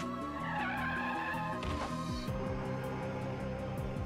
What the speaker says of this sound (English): When I heard the screech of car brakes